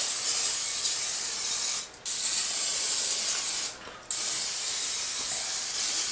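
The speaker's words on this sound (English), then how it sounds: "I'm going to spray the top so the top doesn't dry out." Steady hiss of cooking spray from an aerosol can onto the top of pizza dough, continuous across the clip with two brief pauses, close and fairly loud.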